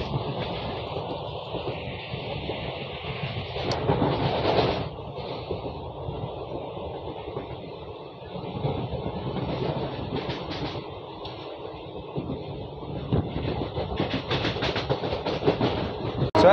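A Muri Express passenger train runs on rails with a steady rumble and rhythmic clickety-clack of the wheels, heard from inside the moving coach, continuous and without talk.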